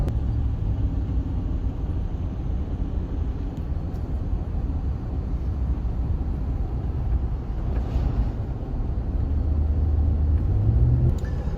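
A junk 2006 Ford Ranger cruising on the road, heard from inside the cab as a steady low engine and road rumble with some wind noise, no talking.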